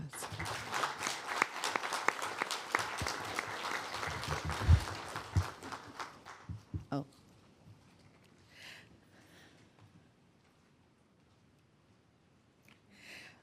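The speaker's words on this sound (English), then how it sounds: "So please give these women a round of applause." Applause at a board of supervisors meeting, a room full of people clapping for several seconds before it thins to a few scattered claps and fades into quiet.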